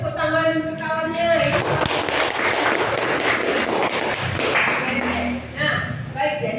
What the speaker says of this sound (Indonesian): beri tepuk tangan untuk kawannya